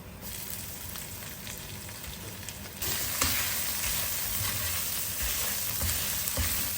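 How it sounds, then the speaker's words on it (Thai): Stir-frying in a pan for khao kluk kapi, shrimp-paste rice: a steady close sizzle with scraping and stirring, growing louder partway through as more heat or ingredients hit the pan. "อันนี้ก็คั่ว"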